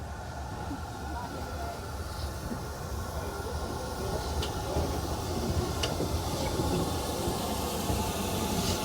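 Steam train running on the Severn Valley heritage railway during a spring steam gala, a steady loud rumble and hiss from inside the carriage, rowdy and continuous with faint clanks over it.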